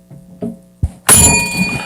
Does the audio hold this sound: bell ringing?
yes